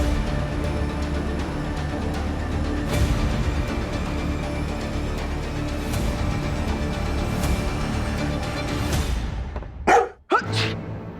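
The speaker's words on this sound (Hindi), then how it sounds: "आप इतना अजीब तरीके से क्यों छींक रहे हैं?" A man's odd sneeze comes out like a dog's bark in a hospital drama: two sharp, loud bursts close together near the end, following a long stretch of steady background noise.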